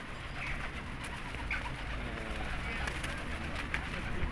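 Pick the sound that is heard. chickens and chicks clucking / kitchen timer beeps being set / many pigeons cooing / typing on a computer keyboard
many pigeons cooing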